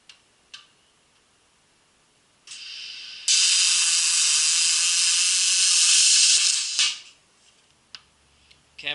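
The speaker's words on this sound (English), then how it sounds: "I'm going to weld a couple feet on here." Aluminium feet are welded onto a sander frame with a loud, steady crackling hiss lasting about three and a half seconds. A few clicks and clanks from handling come before and after it.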